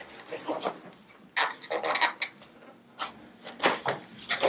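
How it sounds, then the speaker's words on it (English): Cardboard box being opened after its tape is cut, a series of close rustling, scraping and flap-creaking bursts with short pauses between them. "once we cut the tape here and open up the box"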